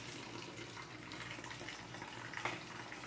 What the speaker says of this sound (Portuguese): Pego um pote. Coloco detergente e água.